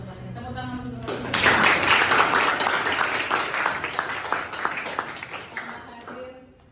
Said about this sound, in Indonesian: Tepuk tangan untuk hadir.